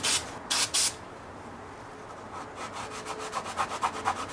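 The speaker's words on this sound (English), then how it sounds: "Let's see if our grease and wax remover will get that off." Wiping a car's rear view mirror with a microfiber cloth and grease and wax remover on a Mazda RX3, heard as a few close, loud rubbing strokes followed by a series of quicker, softer rhythmic wipes.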